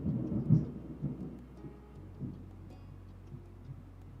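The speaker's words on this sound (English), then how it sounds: "The Thunder." Rumbling thunder from the video game Our Life: Beginnings & Always, a low rolling boom near the start that fades into a steady soft rain-like hush, with no talking.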